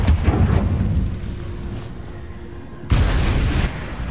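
A Confringo blasting spell in Hogwarts Legacy sets off a deep, booming explosion that rumbles and fades out, followed by a second loud burst near the end, with no talk over it.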